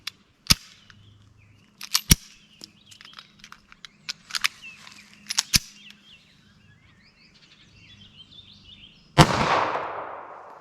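Sharp, isolated gunshots from .22 Magnum CCI Maxi-Mag TNT rounds ring out at irregular intervals, some crisp and near, others softer, ending with one louder blast and a long decaying tail.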